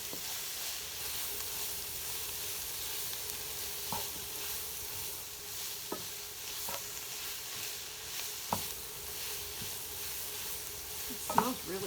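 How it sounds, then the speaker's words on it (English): French onion chicken sizzles steadily in a pan as it is stirred, the constant frying hiss broken by a few sharp utensil taps and scrapes, one louder knock near the end. "Stir that up a little bit."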